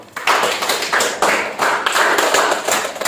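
Classroom applause for a student group, a dense burst of clapping hands that swells and dips in short waves for a few seconds, close and fairly loud, with no talk over it.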